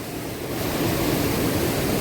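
Heavy rain pouring down in a village, a dense, continuous roaring hiss that swells slightly and stays loud throughout, with no voices.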